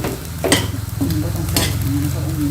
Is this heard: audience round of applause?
no